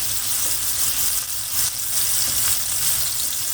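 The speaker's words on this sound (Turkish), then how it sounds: "Köftemizin alt katı iyice kızarmadan çevirmiyoruz." Köfte meatballs frying in a hot pan give off a steady, dense sizzle that stays loud and close throughout, with small crackling pops and no voices.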